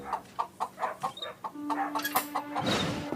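A cartoon hen clucks in a quick run of rhythmic clucks, close and clear, followed by a brief busier stretch of squawking and noise.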